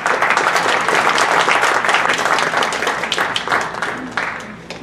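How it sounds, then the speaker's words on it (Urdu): Loud, dense audience applause at a Urdu-language stage event welcoming a poet, sustained clapping from a large crowd that gradually thins and fades toward the end. "آپ کی زوردار تالیوں کی گونج میں"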